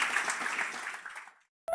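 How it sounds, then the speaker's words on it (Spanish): Applause rising from a congregation during a Sunday morning church service, a steady dense clapping that holds for over a second, then fades out, followed by a short sharp sound at the very end. "Den un aplauso, Señor, en esta mañana."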